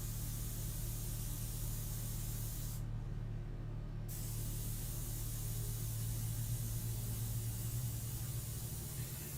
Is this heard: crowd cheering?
no